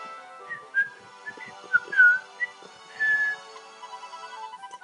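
A character whistling in the video game Inazuma Eleven 3, short tuneful phrases of clear whistled notes with pauses between them, over a faint steady background.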